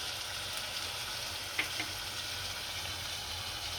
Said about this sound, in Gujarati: આપણો ગુવાર તેલમાં કકડી ગયો છે આમાં ટમેટાને ચૂરી નાખીશું